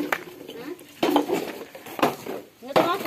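Old metal household vessels being handled for sale to a scrap collector, with several sharp clanks and clinks spaced about a second apart, close by, mixed with faint background voices.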